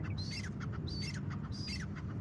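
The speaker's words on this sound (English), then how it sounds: "the birds are gathering near the food" Several birds squawk in short, repeated high calls near scattered bird food, clustered in bursts over a steady background hum.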